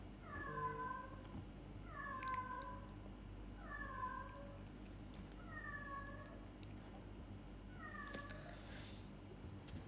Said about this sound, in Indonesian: Iya ada kucing guys sih.